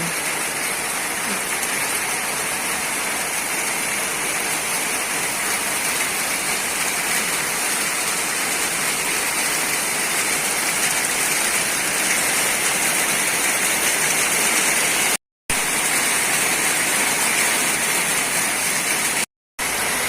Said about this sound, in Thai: เสียงสายฝน ตกลงมาจากฟากฟ้ากระทบสังกะสี